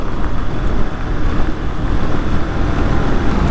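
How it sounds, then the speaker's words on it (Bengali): A trawler boat crossing the Padma river near Mawa Ghat, heard as a continuous low rumble blended with heavy wind buffeting and water noise, steady throughout with no talk. "ট্রলার বলা যাবে, ট্রলার"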